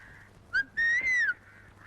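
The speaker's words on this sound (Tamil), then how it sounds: "அண்ணே, உங்களை பார்த்தா விசில் அடிக்குது" A man whistles in a scene from the Tamil film Solaikuyil, giving two short rising-and-falling whistle calls, clear and fairly close, over quiet background.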